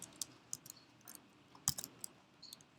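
Light clicking keystrokes on a computer keyboard while entering SQL, sparse, irregular taps with small clusters, faint and close with no talking.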